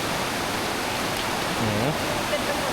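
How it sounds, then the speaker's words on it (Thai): Water pours down Sarika Waterfall in Nakhon Nayok, Thailand, as a steady, close broadband rush that never lets up, with a faint murmur of voices briefly rising underneath. "ดูมุมเต็มเต็มของน้ำตกนะดู สวยมากอะ่ะ"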